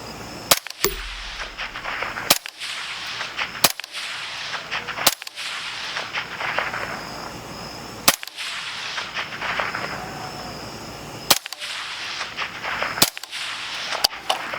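Suppressed shots from a Gordon-inspired retro carbine ring out on an outdoor range, about a dozen sharp, widely spaced cracks over steady background noise, with the hits on a steel target 240 yards away too faint to pick out clearly.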